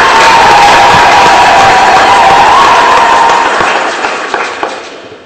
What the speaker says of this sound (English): We clap for Bishop.